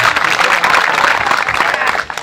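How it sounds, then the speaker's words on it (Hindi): Loud audience applause at an outdoor community gathering in the Parasia range of West Chhindwara, a dense, steady wash of many hands clapping alone for about two seconds before tapering off at the end. "जोरदार तालियां।"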